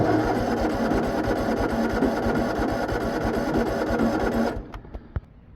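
An old rat rod Gator utility vehicle engine cranks with a rapid, steady mechanical chugging that runs for several seconds, then cuts out, leaving a few faint clicks.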